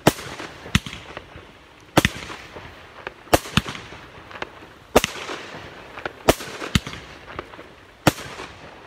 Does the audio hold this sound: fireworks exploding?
yes